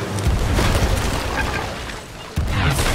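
Flame bombs burst in a game ship battle, a dense rumbling barrage of booms with a sharp fresh blast near the end, loud and close.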